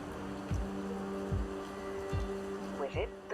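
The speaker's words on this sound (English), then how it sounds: "Crank the engine until it turns on." An engine cranks over in the video game Rue Valley, heard as four evenly spaced, low, heavy thumps under a steady hum and background tones.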